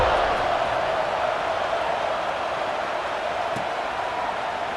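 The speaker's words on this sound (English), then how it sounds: "this crowd is buzzing after that last score" A stadium crowd at a college football game buzzes continuously after a score, a broad, even roar of many voices heard from a distance throughout.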